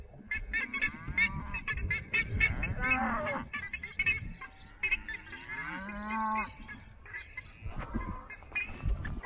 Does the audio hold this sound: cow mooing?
yes